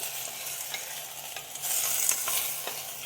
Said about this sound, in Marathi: आपल्याला चांगले मस्त परतून घ्यायचे